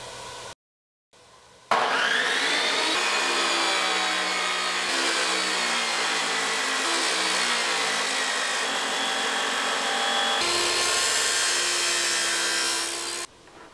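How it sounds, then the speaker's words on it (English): Steel end pieces being cut for a 3-inch channel winch mount on a trailer, a steady, loud sustained cutting whine with grinding texture running for about twelve seconds after a brief gap, with no talk. "Now we're going to cut a couple end pieces to weld to the end of our 3-inch channel"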